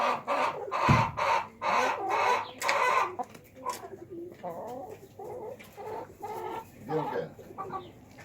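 Chickens, including Brahma hens and a big rooster, clucking in a poultry yard with pigeons about, giving repeated close clucks and squawks in uneven bursts, joined by a low thump early on.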